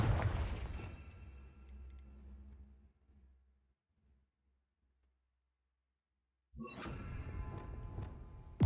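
Confringo fire-blast spell explosion in the Hogwarts Legacy video game, a loud booming blast that decays into near silence, followed a few seconds later by another sharp burst of loud game action.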